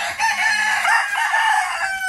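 A two-year-old rooster crows loud and close, one sustained cock-a-doodle-doo with a harmonic, slightly hoarse tone, alone without talk.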